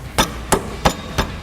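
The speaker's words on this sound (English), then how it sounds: "you're gonna need a hammer to tap into place" A hammer taps a billet lower control arm into place on a 2005-2014 Ford Mustang, four sharp, evenly spaced metallic knocks at close range with no talking.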